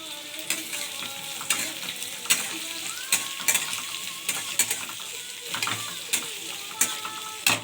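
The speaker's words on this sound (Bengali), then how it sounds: "দুটো শুকনো লঙ্কা কুচি, তারপরে দিয়ে দিলাম আমি পেঁয়াজ কুচি।" Chopped onion and dried chilli sizzling steadily in a pan, with sharp scrapes and clicks as a spoon stirs them at irregular intervals.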